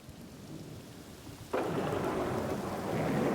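A thunderstorm in opal-mining country: faint rumble and light rain at first, then a sudden loud burst of heavy rain and thunder that roars on steadily, close and enveloping.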